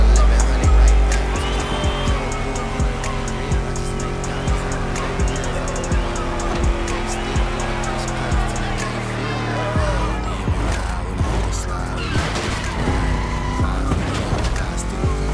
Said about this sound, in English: Let's hear these engines.